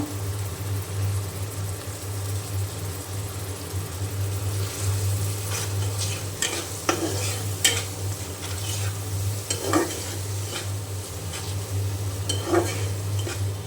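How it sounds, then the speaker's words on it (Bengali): Ginger, garlic and cumin paste fries in a pan with green chili powder and salt for a prawn and papaya curry, giving a low sizzle with sporadic spoon scrapes and clinks over a steady hum, no voices. "এখন মশলা খুব ভালো করে আমি কষিয়ে নিয়ে তারপরে চিংড়ি মাছ দিয়ে দেবো।"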